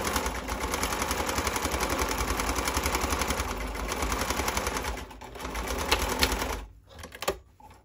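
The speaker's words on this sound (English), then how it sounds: "sewing machine happens to be pretty heavy duty and actually goes over the straight pins" A heavy-duty sewing machine stitches boxer shorts fabric in a rapid, steady mechanical chatter, close and loud for about six seconds before slowing and stopping with a few faint clicks.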